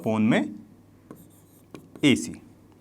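A pen or marker writes the trigonometry ratio BC/AC on a board, with a few short scratchy strokes between bursts of a teacher's speech.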